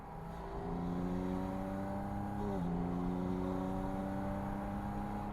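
A Porsche engine revs and accelerates, with a loud, steady tone climbing in pitch, dropping briefly at a gear change and then rising again, heard close with no talking.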